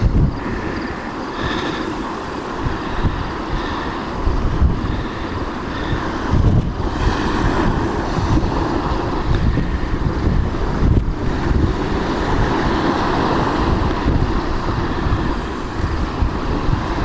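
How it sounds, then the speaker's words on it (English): Strong wind at Miscou Island Lighthouse, New Brunswick buffets the microphone in a steady, loud low rumble with gusty surges throughout, and no voices. "It's pretty windy"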